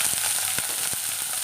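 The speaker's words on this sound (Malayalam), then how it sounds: "കുറച്ച് ഓയിൽ ഒഴിച്ച് കൊടുക്കാം. കുറച്ച് സവാള ഇട്ട് കൊടുക്കാം." Onion pieces fry in oil in an iron kadai, giving a steady close sizzle with faint stirring clicks, loud and continuous and free of any voice.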